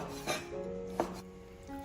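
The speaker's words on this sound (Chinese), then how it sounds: "切成大块。" Cleaver chopping lean pork into large chunks on a cutting board, two sharp thuds close up, with a faint rubbing scrape between them.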